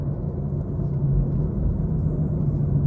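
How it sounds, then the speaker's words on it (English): A BMW M340i in sport mode gives off a low, steady engine rumble while driving, heard from inside the car as a continuous deep drone without speech. "As you guys can see, I have my car in sports mode, so when I slow down, you can hear it."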